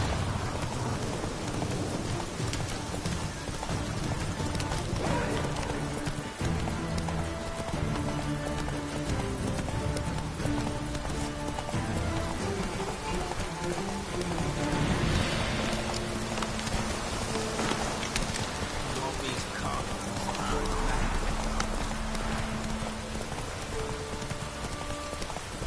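Roach, Geralt's horse in the game The Witcher 3, gallops through a rainstorm with steady hoof clip-clop over constant loud rain, occasional thunder rumbles and a game music bed.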